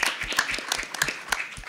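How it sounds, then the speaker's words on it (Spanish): Audience applause at a children's and young adult literature conference panel, a short burst of scattered hand claps that rises briefly and stays at moderate loudness throughout. "Un aplauso, por favor."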